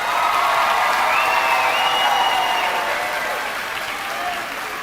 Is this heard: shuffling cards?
no